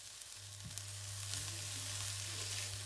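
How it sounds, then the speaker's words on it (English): Onions frying in about a tablespoon of oil for a cauliflower and pea curry hiss softly as they are stirred, with a steady low hum running underneath. "add about a tablespoon of oil and then add in the onions. I'm giving those a stir."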